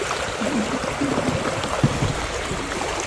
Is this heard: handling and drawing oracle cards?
no